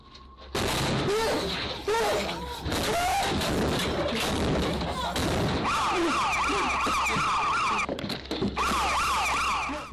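A panic alarm siren wails steadily in the background of a frightening scene, its repeating rising and falling tone running through most of the clip beneath loud, chaotic noise and bursts of commotion.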